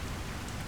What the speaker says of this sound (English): Ooh, look at that rain. Wow, it's raining.